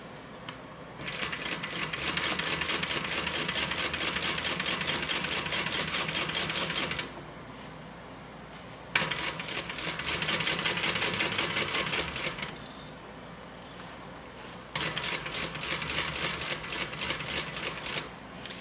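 A domestic sewing machine stitches fabric for a Bluebell bag, running in long steady bursts of rapid mechanical whirring and needle chatter, close and loud, separated by short pauses.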